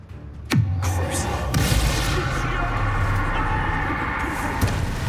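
An explosive spell goes off during a Hogwarts Legacy video game duel: a sharp, loud boom with a falling tail, followed by more blasts over a steady rumble of combat.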